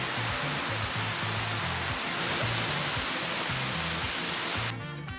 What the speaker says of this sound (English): it proceeded to rain pretty much all afternoon